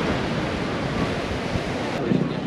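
Ocean surf at a beach near Seminyak, Bali, a loud constant wash of waves mixed with heavy wind rumble across the microphone, with no clear voices.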